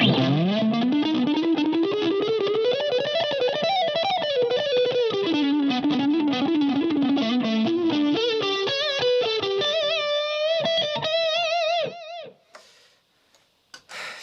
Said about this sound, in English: It got worse when I added drive on the overdrive pedal.